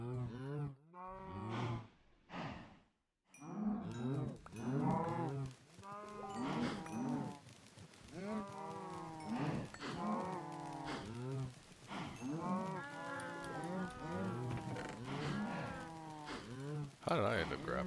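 A Minecraft cow moos over and over in long, low, drawn-out calls with a wavering pitch. The moos come close and loud, almost without pause, across the whole stretch.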